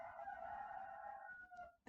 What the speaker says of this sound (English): you might hear my rooster. I'm inside, but he is loud and obnoxious.